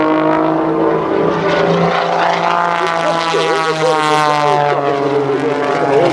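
A Pitts S2B aerobatic biplane at an air show drones loudly overhead, its propeller engine holding a steady buzzing pitch that shifts slightly as it pivots through a hammerhead turnaround, with a voice commentating over it.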